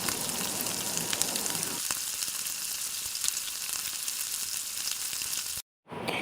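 Vegetable pulao ingredients sauté with salt in a pan, giving a steady, close frying sizzle that runs evenly and then cuts out briefly near the end before resuming. No one speaks.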